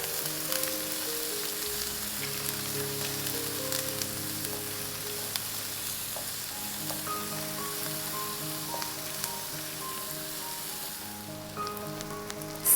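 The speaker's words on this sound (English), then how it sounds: "Into it, let's drop in our chopped shallots. Saute it well till it has changed to golden brown in color." Chopped shallots sauté in hot oil in a pan for squid masala, a steady, even sizzle with soft crackles running continuously, close and fairly quiet, with gentle background music.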